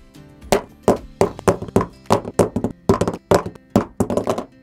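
An iPhone 13 Pro case is slammed and knocked down repeatedly on a hard surface, giving about a dozen loud, sharp clacks and thuds in an uneven rhythm, close up with no talk.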